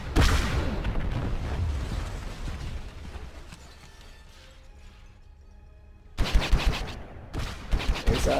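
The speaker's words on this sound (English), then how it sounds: "Good lord, that's a lot of missiles." Missiles and gunfire from the Star Wars X3AP space combat video game: dense, loud sustained barrage of rapid shots and booms, easing to a quieter rumble midway, then sharp loud bursts of fire returning near the end.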